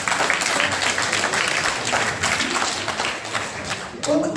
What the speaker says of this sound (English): let's not applaud that